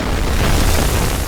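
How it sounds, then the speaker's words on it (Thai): A single loud, deep dynamite explosion set inside a barrel booms and rumbles throughout, dense and sustained with no talking. "ใช้ระเบิดไดนาไมต์ใส่ลงไปที่ถัง"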